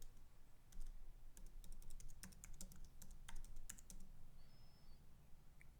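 Quiet, close clicking of a computer keyboard as code is typed, irregular bursts of keystrokes with short pauses between them, alone without talk.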